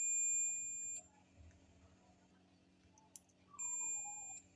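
A multimeter in continuity mode sounds a steady electronic beep twice, once about a second long at the start and again near the end, on a faint background hum with no voice.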